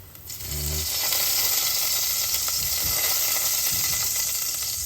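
Sliced carrots stir-fry in a hot pan with a steady, bright sizzle after a brief clink at the start, a dense crackling hiss that runs loud and unbroken throughout.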